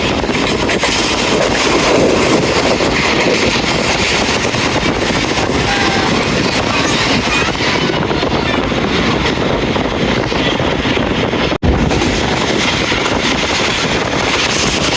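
Rehman Baba Express passenger train running steadily, a loud continuous rumble and roar of the moving coaches with constant rail noise throughout, briefly cut once near the end.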